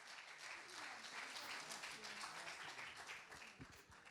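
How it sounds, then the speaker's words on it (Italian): A live audience at the 2018 Penalty Awards ceremony applauds with steady, dense clapping for about four seconds. The sound is fairly faint, and a voice speaks faintly beneath it. "lo accompagniamo con l'applauso del pubblico"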